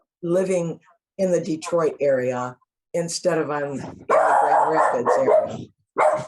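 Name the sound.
dog barking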